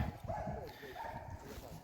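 Hunting dogs bark during boar trials, with yips and whimpering carrying in the distance under steady outdoor noise and people talking.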